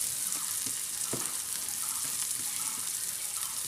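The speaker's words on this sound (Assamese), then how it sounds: "তেলখিনি গৰম হোৱাৰ পাছত মই পিঁয়াজ দি দিছোঁ" Onions sizzle and crackle steadily in hot oil in a pan, a dense close frying hiss with scattered pops, alone without talk.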